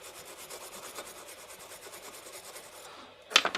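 A small USB-C charging connector being scrubbed with cleaner, giving a steady, close rasping rub that repeats in quick strokes for about three seconds, then a brief pause and a few sharper scrapes.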